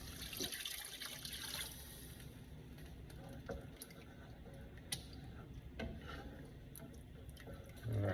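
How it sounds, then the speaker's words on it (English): Water pours steadily from a tap into a cooking pot for rice, a continuous splashing gush heard up close with faint clinks throughout. "let's go ahead and get the water in there"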